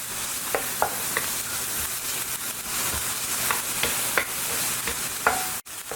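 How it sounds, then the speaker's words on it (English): Onion and garlic sauté in a pan, making a continuous close sizzle broken by regular spoon scrapes and taps against the pan throughout, with a sharp knock just before the end. "I'm going to start cooking our onion and our garlic"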